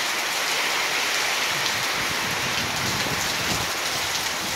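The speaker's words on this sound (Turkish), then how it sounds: "Çok güzel yağmur yağıyor." Heavy rain pours steadily in Burunköy, a dense, continuous hiss of drops striking surfaces close by, unbroken for the whole stretch with no voices over it.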